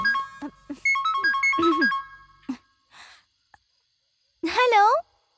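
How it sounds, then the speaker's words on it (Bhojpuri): A mobile phone rings late at night with an incoming call, its melodic electronic ringtone playing a short tune of stepped notes, followed after a pause by a brief voice. "इतना रात में केकर मिस कॉल आवत बा? अरे दीदी कॉल आ गई।"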